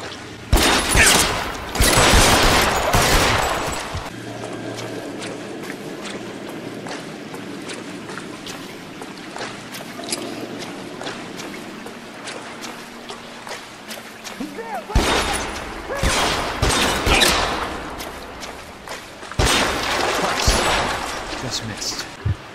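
Gunfire in the video game L.A. Noire, with loud bursts of shots early and again near the end, separated by a quieter stretch of background game sound.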